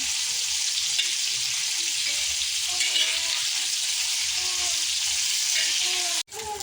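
Prawns sizzle and crackle in oil in a pan, turned over once browned on one side, with an even close frying hiss throughout and a brief abrupt knock near the end.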